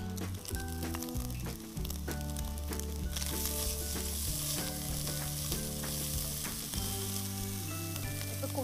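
Grated carrot fries in a hot pan, giving a steady, loud, close sizzle with occasional scrapes from stirring throughout, and no talking.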